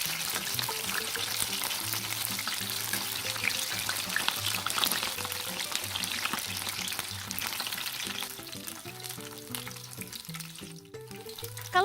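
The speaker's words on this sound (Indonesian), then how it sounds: "Lalu goreng tahunya sampai kering atau setengah kering juga bisa kok" Stuffed tofu frying in cooking oil in a wok, a steady dense crackling sizzle that runs throughout with faint stirring noises and no talk.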